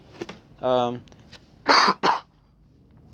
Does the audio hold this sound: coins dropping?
no